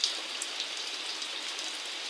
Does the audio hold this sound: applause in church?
no